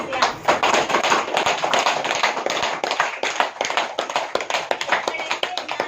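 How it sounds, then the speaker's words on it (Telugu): A group of people at a meditation gathering claps loudly together, a dense, continuous run of sharp hand claps lasting several seconds, with some voices mixed in. "గట్టిగా క్లాప్స్."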